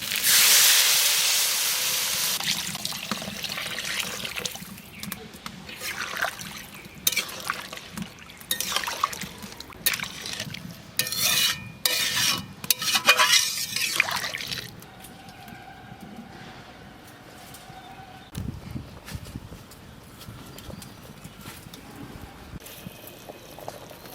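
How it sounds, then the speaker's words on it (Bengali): Water splashes and trickles into a pan of potatoes for several seconds, then gives way to a quieter low simmer and faint background noise. "আলু কষানো গেছে, জল দিয়ে দেবো।"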